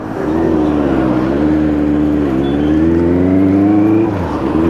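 A Benelli 600i motorcycle with a parallel twin engine running close by, a loud, steady throbbing drone that holds its pitch for a few seconds before easing off slightly at the end.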